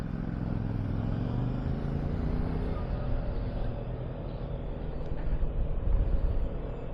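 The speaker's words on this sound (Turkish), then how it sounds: "CF motorun MT 450'si sanırım" A CFMoto MT450 adventure motorcycle passing on a street near a crosswalk and sidewalk, its engine rumbling steadily amid other traffic noise, swelling slightly as it goes by, with a voice speaking over it.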